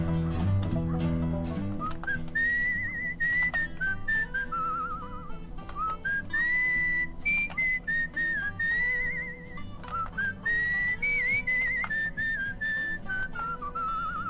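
A game character whistles a wandering folk-like tune in Where the Water Tastes Like Wine, clear and prominent over a steady bed of low instrumental music for the whole stretch.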